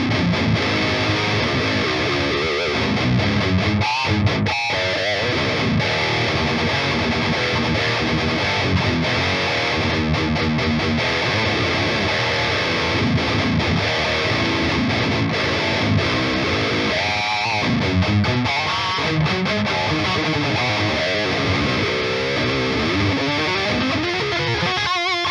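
Distorted electric guitar played through a Soldano SLO 100 amp sim plugin, a dense, continuous high-gain tone with chords and riffs lasting throughout, loud and steady with no talking.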